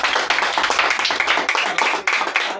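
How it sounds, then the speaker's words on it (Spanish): Applause from a gathered crowd at a community league turkey-day event, a dense steady patter of many hands clapping close by and filling the whole stretch without pause. "¡Aplausos!"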